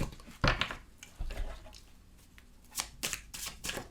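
Oracle cards being shuffled by hand for a tarot reading, soft close riffling and slapping in a few quiet bursts.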